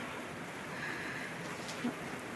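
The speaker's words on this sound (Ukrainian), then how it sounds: "такий дощ іде, що не можеш перекричати" Heavy rain falls steadily outdoors, a dense, even wash of noise that stays loud for the whole stretch, with no voices over it.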